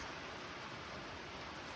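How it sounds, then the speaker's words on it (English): Heavy rain pours steadily onto a trail shelter on the Appalachian Trail between Hot Springs, North Carolina and Erwin, Tennessee, a dense, even hiss of drops close by with no voices. "it's pouring down rain"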